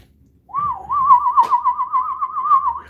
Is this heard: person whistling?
yes